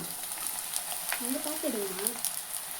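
Sliced onions frying in a clay pot, a faint steady sizzle and hiss with a few light stirring clicks, while a voice briefly speaks over it.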